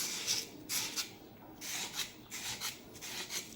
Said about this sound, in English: I'm now sanding the back part of the shafting.